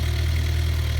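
A 2019 Suzuki GSX-R 750 motorcycle with its factory exhaust gives a steady, close, loud low drone for about a second, with no voices.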